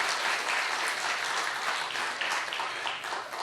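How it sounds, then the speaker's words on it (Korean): A church congregation applauds continuously, dense and even clapping from many hands, fairly loud throughout with no talking. "박수로 환영하겠습니다"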